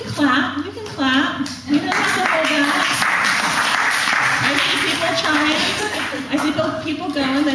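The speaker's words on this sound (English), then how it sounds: "And no matter what, you can clap." Audience clapping steadily throughout at a talk by an antiwar activist, a dense continuous patter with a few voices and laughter mixed in over the whole stretch.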